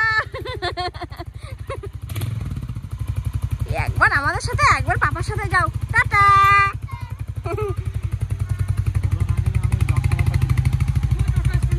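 A motorcycle engine runs close by with a steady, pulsing putter that grows louder toward the end as it pulls away, while adults and someone talk over it.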